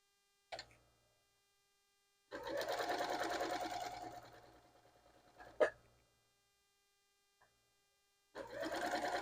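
A sewing machine stitches the final strip onto a pineapple quilt block in short bursts, a close whirring run of a few seconds, a brief tap and a second burst starting at the end, with quiet pauses between.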